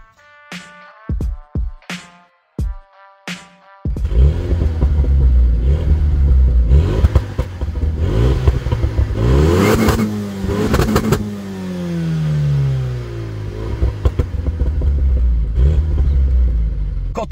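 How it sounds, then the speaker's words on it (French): A Renault Mégane 3 RS sounds off through its exhaust: a few short, sharp blips of the throttle, then a loud sustained rev that climbs and falls with crackling pops, heard up close. "tu reconnais également une Mégane 3 RS grâce à ce pot"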